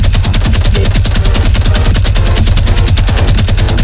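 A Fortnite minigun fires in one unbroken, very loud rapid burst of evenly spaced shots lasting several seconds, close and dominating everything else.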